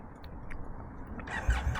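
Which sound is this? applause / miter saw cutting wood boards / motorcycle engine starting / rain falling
motorcycle engine starting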